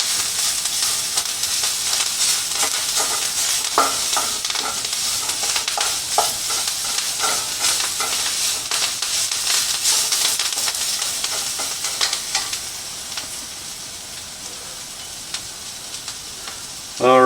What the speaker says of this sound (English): So we're just trying to wilt this kale some.